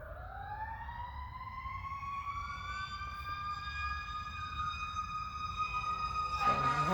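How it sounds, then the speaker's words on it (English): Emergency vehicle sirens wail near a garden, with rising, sweeping tones layered over low traffic rumble that grows louder toward the end. "As I have to speak over the sirens going to 75."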